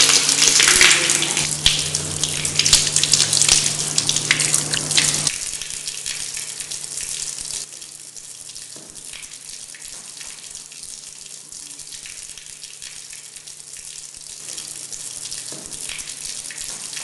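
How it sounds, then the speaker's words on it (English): Steady gushing of water from a tap into a basin for ritual ablution, loud and close for the first five seconds, then a softer, thinner trickle that continues to the end with no voices. "then follow it with ablution or the ritual washing"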